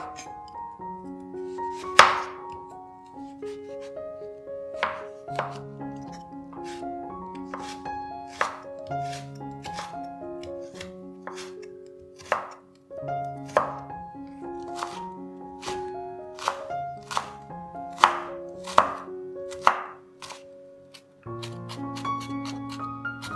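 Knife chopping soaked shiitake mushrooms on a cutting board, a steady series of crisp close chops over soft background music.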